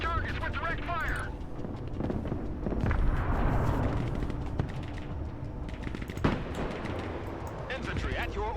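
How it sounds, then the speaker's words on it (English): Artillery fire and explosions in the military strategy video game Broken Arrow, a dense stream of booms and gunfire bursts rumbling throughout, with game voices speaking over the battle. "I am targeting it with the artillery"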